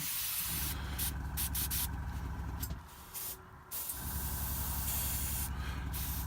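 Airbrush spraying paint onto a custom Escher Gang miniature, a continuous airy hiss with a low compressor hum underneath, briefly dropping out midway before resuming, close and steady.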